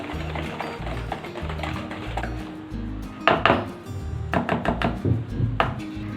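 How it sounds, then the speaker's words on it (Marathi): A milk mixture for rava cake batter is whisked briskly in a bowl, giving close, rapid, irregular clinks and taps of the whisk against the bowl's side, with no talking. "हे चांगलं फेटून घेऊया।"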